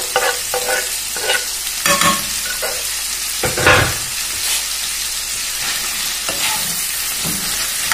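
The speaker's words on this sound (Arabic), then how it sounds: "نجيب بقى البصل بسم الله الرحمن الرحيم يتشوح معاه شويه" Onions being sautéed with meat in a pan for an Egyptian potato-and-meat tray bake, a steady frying sizzle broken by repeated scraping stirs, close and fairly loud with no talking.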